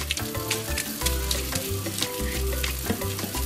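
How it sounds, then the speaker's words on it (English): Butter melting in a hot frying pan, a continuous close sizzle and crackle. Some clinking and knocking from the cooking sits under it, with no talking. "got a frying pan, and we wanna melt the butter"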